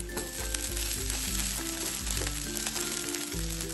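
Fasting dosa batter for Navratri sizzling and frying on a hot griddle, a steady close crackle that runs throughout with no voices.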